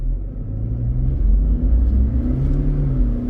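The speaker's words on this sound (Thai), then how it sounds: "แล้วลองเหยียบคันเร่งดูครับ" A Toyota Fortuner's engine revs under hard acceleration, a loud, close, steady rumbling drone that climbs gradually in pitch over a few seconds, with no talking.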